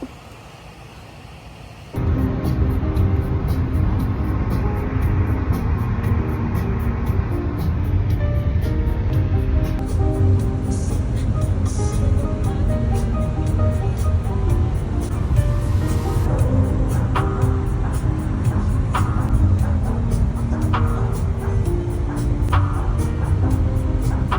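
A car driving with a passenger aboard, steady loud engine and road noise starting abruptly and continuing unbroken, with occasional faint interior rattles and no clear talk.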